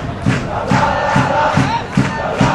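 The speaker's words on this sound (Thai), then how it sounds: "นี่ครับกองเชียร์ร้องเพลงอย่างมีความสุขครับตอนนี้" Football supporters at a 2009 Thai Premier League match between Muangthong United and Chula United sing a club chant, a large crowd roaring in a steady, rhythmic, pulsing beat that fills the stadium.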